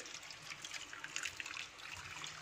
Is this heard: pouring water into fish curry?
yes